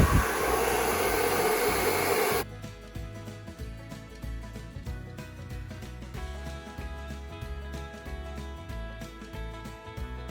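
A hair dryer roars loudly and close while blow-drying frizzy hair with a round brush, a steady whooshing blast that cuts off after a couple of seconds, leaving music playing on.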